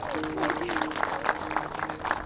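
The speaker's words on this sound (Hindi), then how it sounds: "इसके लिए पहले तो जोरदार ताली बजा दो।" An audience at a yoga session claps for a woman on stage. The applause is brief and dense, with background voices and a tonal sound beneath it.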